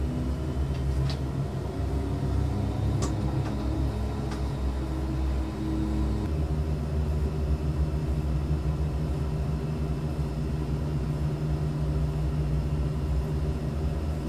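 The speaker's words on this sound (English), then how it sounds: "we'll demonstrate reverse thrust" Twin Otter engines in reverse thrust, heard in a flight simulator cockpit build, make a steady low droning roar that shifts in tone partway through and then holds constant.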